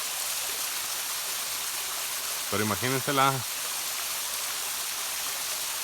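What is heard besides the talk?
small waterfall and stream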